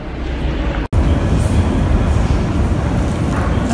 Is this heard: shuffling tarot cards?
no